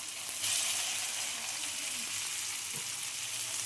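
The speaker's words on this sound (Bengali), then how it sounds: "এবার আমরা পাস্তা ভেজে নেব।" Pasta fries in hot oil in a wok, giving a steady hiss of sizzling with faint occasional stirring, close but soft, no voices.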